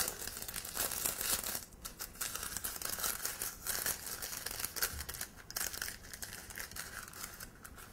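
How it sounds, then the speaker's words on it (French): Paper piping cone for chocolate lettering being folded shut with its large tab tucked inside, a continuous close, soft crinkling and rustling of paper with faint handling noises, no voices. "pour fermer ce cornet, on vient mettre la grande languette à l'intérieur"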